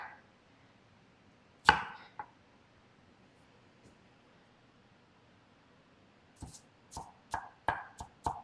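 A knife chopping onion on a cutting board for chicken salad, one sharp cut early on, then a quick run of crisp chops near the end, close and fairly quiet against a near-silent background.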